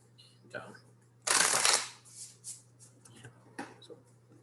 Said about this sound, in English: when you shuffle cards, sometimes they kind of stick together or do something weird